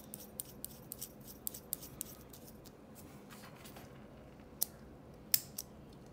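A Fisher Space Pen AG7 fitted with a refill gives a series of small, sharp clicks from its mechanism, irregular and close, scattered over a quiet background with a couple of stronger clicks near the end.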